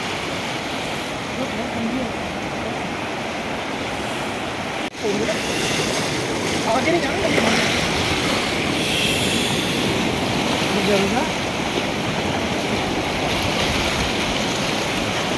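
Loud, continuous roar of the fast-flowing Ganges rushing past close by at the Devprayag confluence of the Alaknanda and Bhagirathi rivers, with gusts of wind buffeting the microphone.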